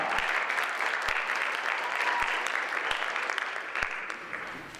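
A crowd at a folktales storytelling event applauds between storytellers. The clapping is sustained and even and slowly thins toward the end, with occasional louder single claps.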